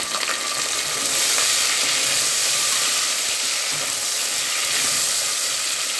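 Two tomatoes tipped into a hot oiled pan for vegetable pulao give a steady, close, loud sizzle and hiss of frying that holds evenly throughout, with faint stirring and no voices.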